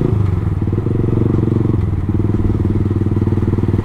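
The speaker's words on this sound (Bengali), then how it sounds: "গিয়ার পুরো আপ করে নিলাম" A motorcycle engine roars steadily up close while being ridden, a thick continuous drone with slight changes in pitch as it goes up through the gears.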